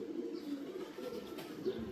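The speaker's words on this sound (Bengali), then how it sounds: "আমার হাতে নর কবুতরটা দেখতে পাচ্ছেন" A male pigeon coos in soft, repeated low murmurs, close and fairly quiet, over a faint background hiss.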